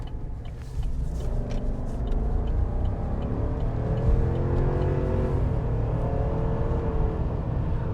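A 2021 Chevrolet Silverado Trail Boss half-ton pickup accelerates from inside the cab, its engine note climbing in rising harmonic sweeps over a constant low road rumble before easing off, with no talking.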